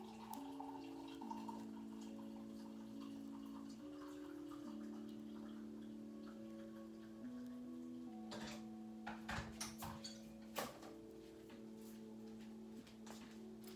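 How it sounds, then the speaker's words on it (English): Tea is poured into a cup with a soft, trickling liquid sound and a few faint drips and clinks, set against a quiet background of sustained musical tones. "I'm just going to pour some tea"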